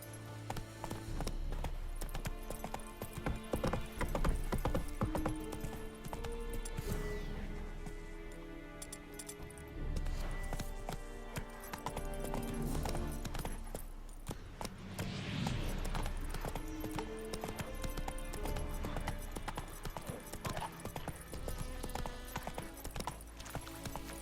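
Roach the horse gallops in The Witcher 3, a steady clip-clop of hooves running through the whole stretch under a dense, loud game soundtrack and effects, with a brief neigh possible.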